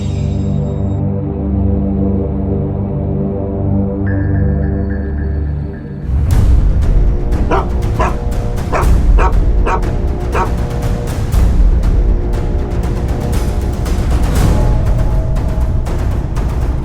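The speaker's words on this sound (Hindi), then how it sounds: "ये कुत्ता भी यहीं आकर सूंघ रहा है।" A dog barks, yips and whimpers in a crime drama scene set in a Mumbai housing society, with repeated sharp barks over a busy noisy background after a stretch of soft music.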